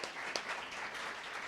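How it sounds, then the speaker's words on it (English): Audience applause at a live late-night show, a brief burst of steady clapping, fairly faint and distant, with no talk over it. "How about a round of applause for Rod Fowler over there, too?"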